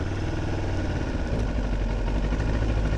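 A Moto Morini X-Cape 700 adventure motorcycle engine settles into a steady, close idle, its low, even rumble continuous and loud throughout with no voices.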